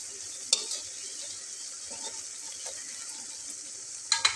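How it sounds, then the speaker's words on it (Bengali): Vegetable pakora deep-frying in oil on medium heat, a steady soft sizzle with a few faint stirring clinks, no voices. "এপিঠ ওপিঠ দুই পিঠে আমি একদম ব্রাউন কালার করে ভেজে নেব"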